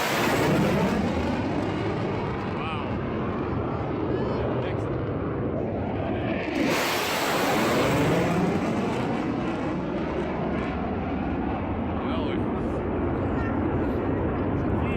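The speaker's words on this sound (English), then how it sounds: "These F-35s doing a low flyby." F-35 fighter jets making a low flyby, a loud sustained broadband jet roar that swells and peaks mid-clip before continuing as a heavy rumble, with voices faintly present underneath.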